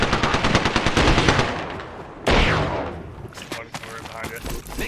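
Sustained automatic weapon fire in a video game shootout, a dense rattling stream of close shots followed by a heavy blast and scattered later bursts, with a player's voice underneath.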